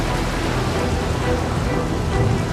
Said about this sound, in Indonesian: Apa yang harus kami lakukan supaya badainya berhenti?